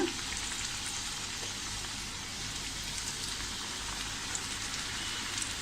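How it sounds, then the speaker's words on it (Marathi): Chakli made from moong dal and maida fry in oil over medium heat, producing a dense, continuous bubbling sizzle that holds steady and close throughout. "आता आपण या चकल्या छान अशा तळून घेऊया"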